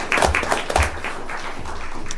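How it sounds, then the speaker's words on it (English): Applause at an Ellis County, Kansas county commission meeting, a short burst of clapping from the room that starts strong and tapers to a softer patter. "Give him a round of applause."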